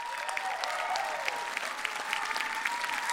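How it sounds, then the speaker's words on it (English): Steady applause from a large crowd at a Rainbow Six Siege esports tournament, the Six Invitational, dense clapping that holds at an even level throughout. "a round of applause, everybody"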